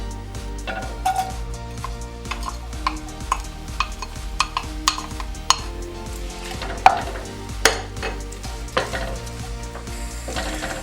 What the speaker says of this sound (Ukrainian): Сковородка у нас вже попередньо розігріта. Е, спочатку будемо обсмажувати цибульку.